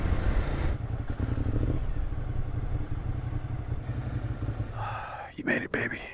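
A wounded Ducati motorcycle engine running rough, a steady low rumble heard from the rider's position with faint clattering, ending in a few louder bursts.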